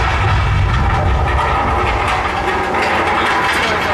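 A loud, continuous mechanical rumble with rattling and grinding shakes a simulated subway station soundstage at Universal Studios during a staged earthquake effect, steady and dense for the whole span.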